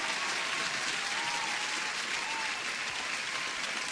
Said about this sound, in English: I'm gonna put an applause for this trade.